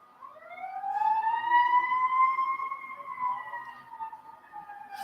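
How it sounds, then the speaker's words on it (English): A fire truck siren rises and sustains a smooth wailing tone as it travels down Rockland Road near a baseball field, clear and fairly close with little else underneath, easing slightly toward the end. "Here are the sirens coming down Rockland Road."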